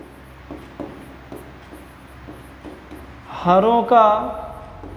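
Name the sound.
writing on paper while solving a math problem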